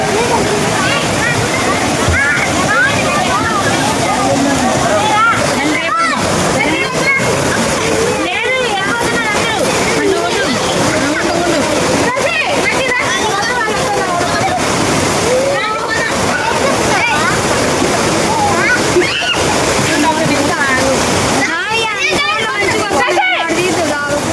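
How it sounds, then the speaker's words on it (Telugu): A very tall waterfall in dense forest pours down with a loud, steady broadband roar that fills the whole stretch without letup, with voices talking over it. "ఎంతో ఎత్తైన జలపాతం పైనుంచి వస్తుంది వాటర్"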